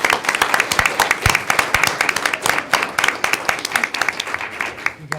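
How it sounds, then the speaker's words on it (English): Applause for students at a school board of education meeting, a crowd clapping with sharp, uneven individual claps, fairly close, tapering slightly toward the end, with a few voices murmuring underneath. "So just another round of applause for our students."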